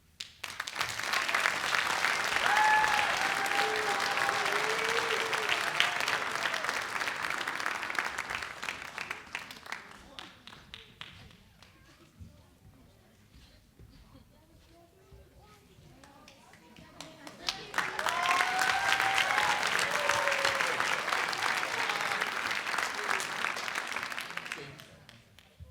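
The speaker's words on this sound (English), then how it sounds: "and I just want to applaud them." An audience at a school DARE graduation ceremony applauds in two long, loud waves of clapping. A quieter gap between the waves holds scattered claps and murmuring.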